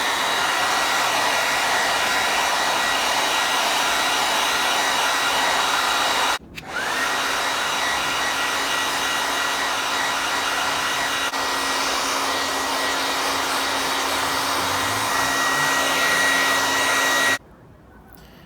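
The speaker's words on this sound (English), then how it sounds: "First, I used a blow dryer, and then my girlfriend's hair straightener." A blow dryer roars steadily and close while heating the wood of a mid-century modern dresser, briefly dipping as it's adjusted, then running on before cutting off near the end.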